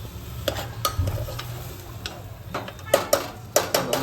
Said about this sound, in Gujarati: ઘીનો તડકો મારી દીધો છે.